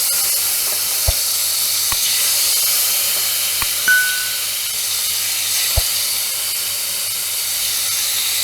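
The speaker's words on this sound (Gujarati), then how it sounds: "આ બધું પનીર આપણે આ રીતે ફ્રાય કરી લઈશું" Paneer pieces fry in a pan for a paneer vegetable Maggi, giving a steady, even hiss of sizzling oil throughout. A few faint clicks and taps from utensils sound now and then over the bed of noise.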